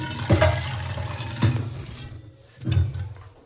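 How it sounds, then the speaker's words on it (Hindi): Water pouring into a pot for making tea, a continuous splashing and gurgling stream at close range with a few louder surges, without speech. "तो यहाँ पे मैं चाय का पानी डाल रही हूँ।"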